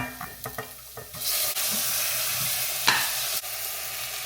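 Onion and curry leaves hit hot oil in a pot for chicken curry, a few faint clinks then a loud steady sizzle that stays strong throughout, with a stirring scrape partway, close up, no talking.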